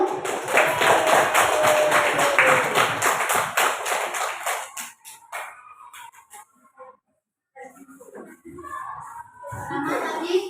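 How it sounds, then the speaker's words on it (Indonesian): Classroom applause for a student group, a dense burst of many hands clapping that fades after about five seconds into scattered murmurs and quieter room noise. "berikan tepuk tangan untuk kelompok 1"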